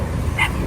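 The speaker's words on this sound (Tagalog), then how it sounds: "Ang dami mong aso." A single short dog yip or bark sounds once from among several dogs, brief and moderately close over a steady background hum.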